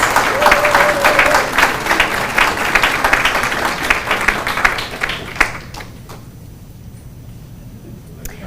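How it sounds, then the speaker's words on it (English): Audience applause at a county and university business breakfast and scholarship event, sustained steady clapping from a seated crowd for about five seconds, then fading out to scattered claps and room quiet. "Let's applaud the intellectual leadership of Mr. David Linz."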